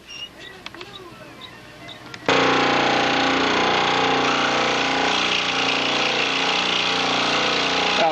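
A saw cutting a wingtip piece for a model aircraft starts after a quieter opening, then runs as a loud, steady whine with cutting noise to the end.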